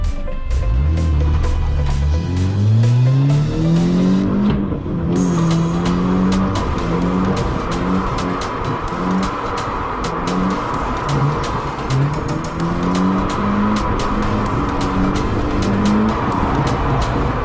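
A BMW drifts on a race track. The engine revs climb and fall in repeated sweeps, and the tires squeal loudly and continuously throughout, with no voices.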